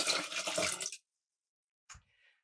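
Water poured into a large Vitamix-type blender container over brown rice for rinsing, a loud close splashing gush for about a second, then silence and a brief small splash.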